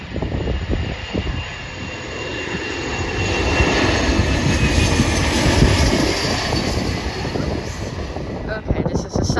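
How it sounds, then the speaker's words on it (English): A Southwest Airlines Boeing 737-700 jet airliner at Dallas Love Field gives off a loud, continuous engine roar that swells slightly and holds steady throughout. "this is a Southwest Airlines Boeing 737-700 coming from Louisville"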